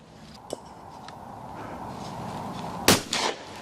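A single sharp, loud shotgun blast at clay targets, followed by a short echoing tail, with a faint earlier click.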